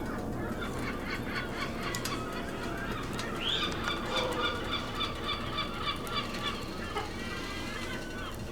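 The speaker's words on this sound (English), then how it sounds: "on the background you hear the chickens and the seagulls" Chickens cluck and gulls cry repeatedly in the background over a steady low rumble, the calls layered and overlapping at moderate distance, heard outdoors beside a wood fire.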